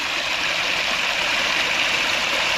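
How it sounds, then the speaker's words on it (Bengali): Rainwater flows down beside a village field in a steady, continuous rushing wash, loud and close with no breaks or voices. "সব বৃষ্টি পানি নামতেছে পাশ দিয়ে।"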